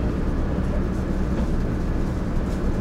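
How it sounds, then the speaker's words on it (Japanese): The Kintetsu Aoniyoshi limited express stands stopped at Yamato-Saidaiji station, a steady low onboard rumble and hum heard from inside the carriage with no talking. "一応列車はこの大和西大寺で停車しましたが"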